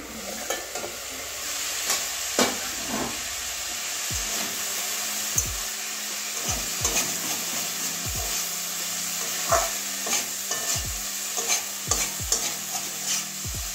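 Cauliflower fries in a pan over medium heat with a steady close sizzle, while a utensil scrapes and stirs it in repeated short strokes throughout.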